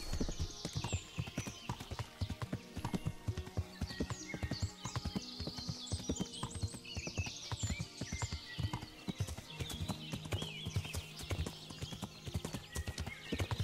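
Horse hooves clip-clopping at a gallop in Kingdom Come: Deliverance, a steady, loud run of dense hoofbeats with brief whinnies and light talk mixed in.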